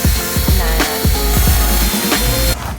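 A wire wheel on a power tool scrubs a Mazda Miata engine part, a loud, close, continuous grinding whir with rhythmic rubbing strokes that stops abruptly near the end, with no talking.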